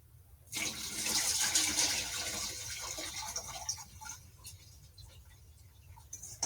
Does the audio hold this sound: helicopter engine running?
no